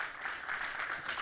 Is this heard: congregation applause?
yes